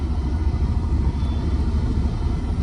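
Low, steady vehicle rumble from traffic passing on a mountain ghat road, a continuous engine drone close by with no distinct horns or voices.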